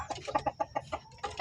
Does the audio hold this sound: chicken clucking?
yes